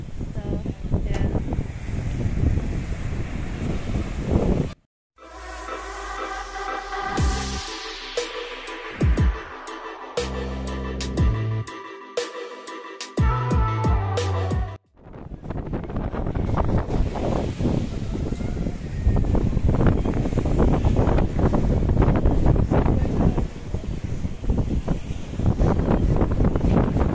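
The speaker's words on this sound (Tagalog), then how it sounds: "Mahangin. Sobrang hangin dito" Strong gusting wind buffets the microphone at a seaside restaurant, with waves churning behind it; a roaring broadband stretch at the start and again at the end, broken in the middle by a section of music.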